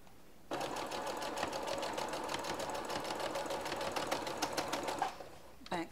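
A sewing machine back stitches a fabric seam on a homemade Christmas craft, its needle chattering in a fast, even close-up run for about four and a half seconds before stopping.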